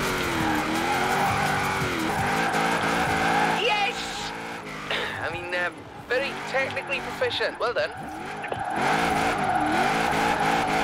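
Car drifting in Forza Horizon 4, a drift tandem event: continuous loud engine roar with squealing, skidding tyres that rise and fall over the run, with a voice talking over it throughout.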